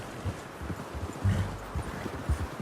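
Horse hooves in the Red Dead Redemption 2 game thud and clop at an uneven pace over low ambient rumble, moderately close, with no talking.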